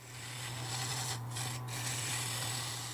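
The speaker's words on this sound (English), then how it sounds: "So all I'm going to do now is use this roughing gouge just to get the thing round first" A roughing gouge rounds a small wooden rolling pin blank on a lathe, giving a steady close rasping scrape over a constant motor hum, with two brief dips as the cut lifts.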